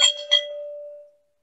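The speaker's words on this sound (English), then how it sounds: "now that we know that the bell rings, we will ring the bell" A single bell marking a session time limit, struck once with a bright metallic onset and a short follow-up tap, then ringing on as a steady clear tone that fades out over about a second in a quiet room.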